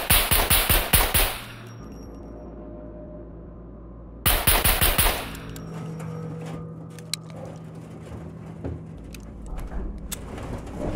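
Two loud, rapid bursts of automatic gunfire ring out close by in the survival video game Scum, separated by a few seconds of quieter ambience, with scattered faint shots and clicks afterward.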